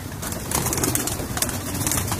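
Indian Shikray pigeons coo in a low, throaty burble close by, with soft rustling and fluttering filling the background; no one speaks.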